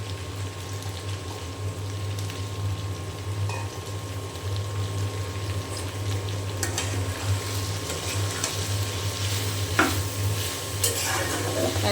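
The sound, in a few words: okra frying in a pan with onion and green chili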